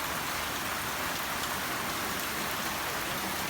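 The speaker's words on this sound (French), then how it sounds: "Je suis en train de faire mon ménage et il pleut des cordes." Heavy rain pours down outside a home in a dense, steady hiss that fills the whole stretch without pause, and no one speaks.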